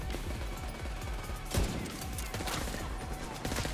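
Sniper rifle shots in a video game, one loud crack standing out above a busy layer of game music and effects.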